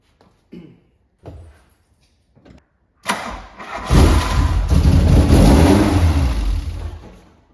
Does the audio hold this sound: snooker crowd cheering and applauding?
no